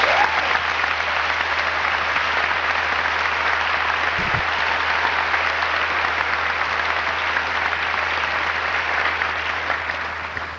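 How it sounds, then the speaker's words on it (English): A high school graduation audience in Agawam, Massachusetts, in 1998 applauds the class officers, a dense, steady roar of clapping that holds for about ten seconds and fades slightly at the end. "they deserve a round of applause"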